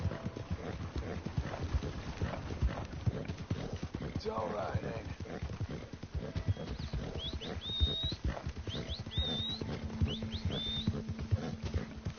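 Horse hooves clip-clop steadily at a walk in Red Dead Redemption II, a regular mid-level rhythm running under a voice speaking to the horse, with a few bird chirps behind.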